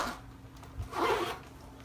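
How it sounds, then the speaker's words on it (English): Zipper running along the top of a Chanel handbag, one short near pull with a soft rasping burst and some light rubbing, no talk. "And then it does have a zip at the top."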